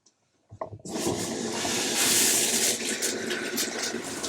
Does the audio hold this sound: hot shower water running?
yes